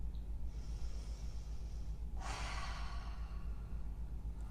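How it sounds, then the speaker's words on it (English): A slow, deep breath during yoga practice, a soft airy inhale then a longer audible exhale, close and alone over a steady low hum. "Let's take one more breath."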